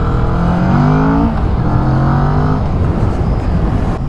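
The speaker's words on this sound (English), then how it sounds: "A steady acceleration in the corner, come out, give it some, and it loves it." Kawasaki Vulcan S motorcycle engine pulling hard out of a corner, a loud, close, steady roar whose pitch climbs smoothly under acceleration, with wind rush behind it and no talk.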